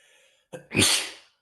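A single close, loud sneeze with a sharp intake followed by a burst of breath, standing alone in an otherwise quiet moment.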